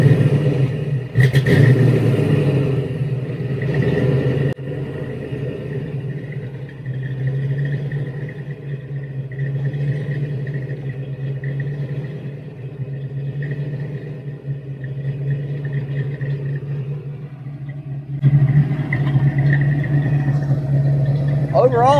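A 347 stroker V8 in a coupe starts up with a burst of cranking and catch, then settles into a steady, loud, slightly uneven idle rumble close by, with a brief rise near the end.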